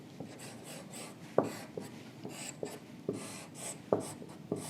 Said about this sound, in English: Randomly write some frames here.